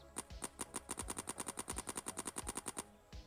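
Rapid automatic gunfire from the video game Infinite, a steady stream of about two dozen evenly spaced, punchy shots firing fast and close before stopping abruptly.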